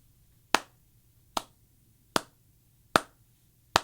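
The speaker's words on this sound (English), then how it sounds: "That's all slow clap right there" A slow clap: five single, sharp hand claps spaced evenly about a second apart, crisp and isolated against near silence.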